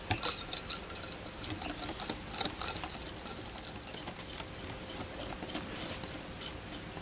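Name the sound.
stirring bibingka batter with fresh milk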